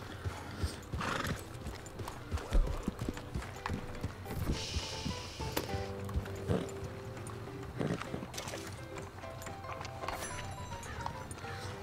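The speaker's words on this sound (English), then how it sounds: "here's the horse here" Hooves clip-clop in a steady, close rhythm in Red Dead Redemption 2, with a horse whinnying partway through and faint mechanical clicks in the background.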